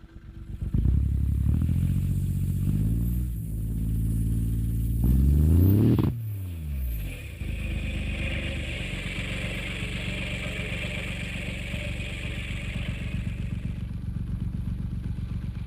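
Startwind Thunderstar 1200 turbocharged direct-injection turbo diesel sport bike from the Netherlands starts with a clattering crank, revs loudly in several rising and falling bursts, then settles into a steady, rough, close diesel idle.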